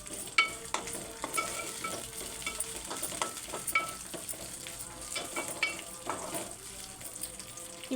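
Chopped pistachio pieces frying in a pan until light brown, a soft steady sizzle with scattered stirring clicks and scrapes throughout, fairly quiet and close, no voices.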